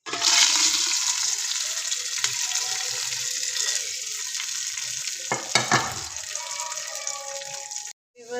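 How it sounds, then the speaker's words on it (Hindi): Hot oil tempering sizzles loudly into cooked lentils with a steady, hissing crackle that lasts several seconds and then cuts off abruptly. "अब हम तड़का जो है दाल में ऐड करते हैं।"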